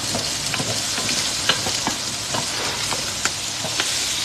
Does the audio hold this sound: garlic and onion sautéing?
yes